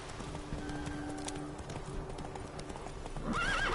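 Hooves of the horse Roach clip-clop at a steady trot in The Witcher 3 game, and a whinny rises near the end; close, moderately loud, over soft ambient game background.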